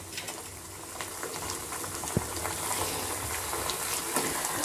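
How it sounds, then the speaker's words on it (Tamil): Ingredients frying until golden in hot oil for a Tirunelveli-style kootanchoru, a steady close sizzle with light crackling and occasional stirring clinks, no voices. "நல்லா பொன்முருவலாக வறுக்கணும்."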